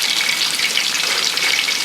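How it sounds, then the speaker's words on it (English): Plantains sizzle in hot oil in a home kitchen, a steady close crackling hiss that runs without pause and with no voices. "I'm frying the plátanos"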